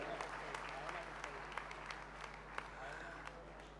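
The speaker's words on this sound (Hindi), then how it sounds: "ताली बजाओ और अभिनंदन करो" A seated congregation at a Hindi religious sermon claps steadily, a dense, even wash of many hands with occasional sharper claps standing out, under a low steady hum and a faint voice.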